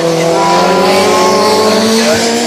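Racing cars at Oulton Park circuit roar loudly and continuously, with engine tones rising in pitch as they pass close by.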